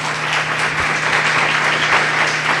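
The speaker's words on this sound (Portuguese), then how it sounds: "Louve a Deus com as suas palmas." A church congregation claps along steadily, a continuous wash of many hands clapping at moderate volume over a low sustained tone, with no speech heard.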